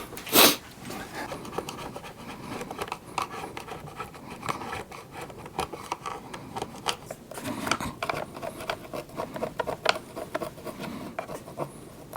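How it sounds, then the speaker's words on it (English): A scribe or small flathead scratches old RTV sealant chunks out of a seal groove, giving irregular, close scraping and picking strokes that continue throughout, with one sharper scrape at the start. "I think I can just take a scribe or small flathead and just scratch those out."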